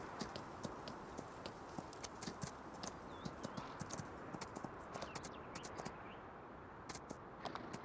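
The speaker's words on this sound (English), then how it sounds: "Riding our horse." Horse hooves clip-clop in a steady walking rhythm over a constant rushing background noise, faint and continuous.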